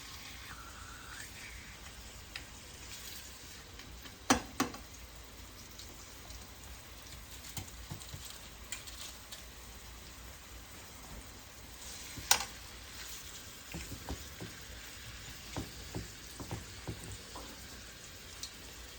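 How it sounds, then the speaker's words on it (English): Faint, steady sizzling and crackling of pork chops frying in a pan, with occasional louder pops and clinks over a constant hiss. "You heard it sizzling."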